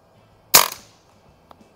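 A Crosman Icon .22 air rifle fires one H&N hunting pellet: a single sharp, loud crack that decays quickly, followed by a faint tick.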